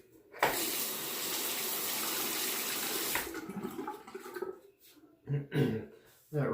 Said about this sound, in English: Gonna rinse the razor.